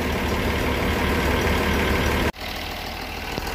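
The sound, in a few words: Mercedes-Benz 1718A 4x4 truck engine running at idle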